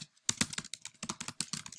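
Typing on a computer keyboard, a close run of quick, crisp key clicks in an uneven rhythm with brief pauses, heard alone without talk.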